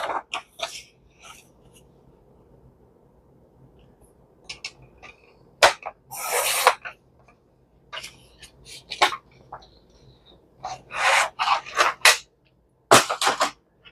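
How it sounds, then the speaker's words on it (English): A paper slicer or guillotine cuts paper for a handmade blue pride-month journal cover, giving sharp, loud chops and rustles in several separate bursts against a quiet background. "Grab my slicer or guillotine."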